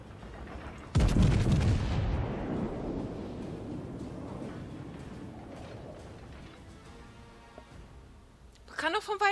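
Warship guns in World of Warships fire a single heavy, booming salvo from a distance, and the rumble trails off slowly over several seconds before a voice speaks near the end.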